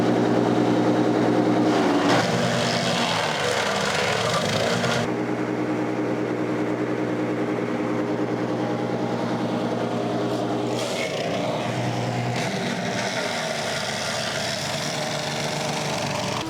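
Garden wood chipper shredding tree branches into mulch, its engine droning loud and continuous at close range, with the load shifting audibly around a few points as material feeds through.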